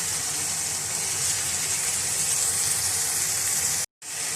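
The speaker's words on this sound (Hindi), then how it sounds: "थोड़ी देर मसाला भूनेंगे और फिर अरबियाँ ऐड कर देंगे" Masala spices frying in a pan for arbi (taro root) curry, a steady, dense sizzle and hiss running close and continuous, broken by one brief moment of silence near the end.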